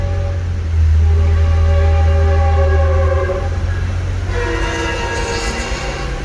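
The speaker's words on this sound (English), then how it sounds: "Just waiting for that train to pass by" A train rumbles loudly past at close range, a deep steady roar with tonal whining, shifting in pitch as the cars roll by.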